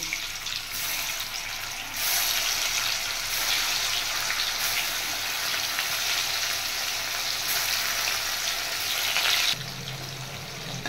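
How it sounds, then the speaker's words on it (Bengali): Paneer fries in a pan with a continuous loud hissing sizzle that surges louder after a couple of seconds, holds steady, then drops back near the end. "এবার আমি পনিরগুলো ভেজে নেব।"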